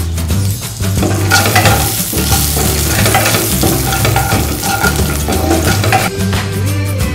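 Mustard seeds, curry leaves and green chillies tempering in hot oil for semiya upma give a loud, dense, continuous sizzle and crackle with a low hum beneath, no voices.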